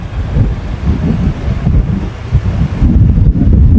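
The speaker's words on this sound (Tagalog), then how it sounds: "Lakas ng hangin." Strong wind near Taal Volcano buffets the microphone in loud, rough gusts, a continuous low roar with no voices.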